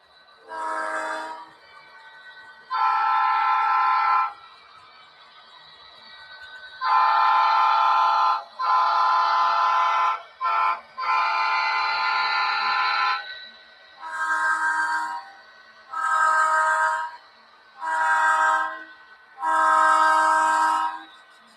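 A BNSF model train locomotive on a loft layout sounds repeated horn blasts, some long and some short, loud and close, with quiet gaps between them.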